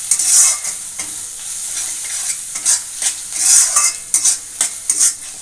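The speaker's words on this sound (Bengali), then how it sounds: "দিয়ে পেঁয়াজটা আমি নেড়ে চেড়ে লাল করে নেব।" Finely chopped large onion sizzles loudly in hot oil while a utensil stirs it, scraping and clattering in repeated bursts against the pan for palak paneer.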